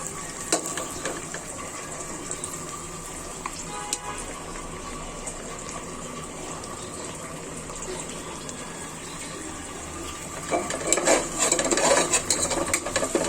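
Lentil dal with bottle gourd, pointed gourd and spices being stirred in a pot: soft wet scraping and sloshing close by, steady at first and growing louder and busier toward the end.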